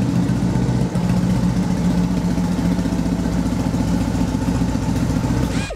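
A custom Triumph Bonneville SE motorcycle engine idles steadily and loudly up close, with an even, low rumbling pulse that holds throughout, then cuts off abruptly at the very end.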